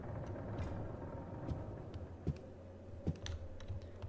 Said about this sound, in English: Very old model typewriter.